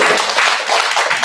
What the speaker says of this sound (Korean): 우리 박수 모아주니다.